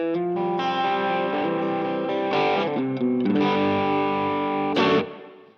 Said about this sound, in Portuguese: Aqui eu estou usando um crunchzinho.